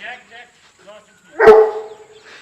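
A Bull Mastiff on a horse farm lets out a single loud, close bark, with people talking quietly before it and a voice continuing under the fading bark.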